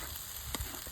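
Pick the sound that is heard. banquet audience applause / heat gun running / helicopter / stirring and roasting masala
stirring and roasting masala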